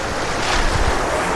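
The Kali Bontar river in Magelang flows past a campsite as a steady, close wash of rushing water with a soft windy hiss and no voices.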